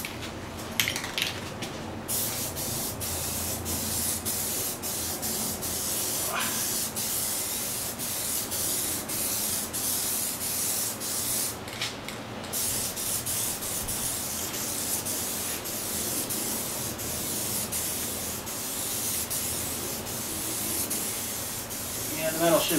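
Spray paint hisses steadily onto metal in a long, continuous, fairly close spray with brief pauses and faint rattles along the way.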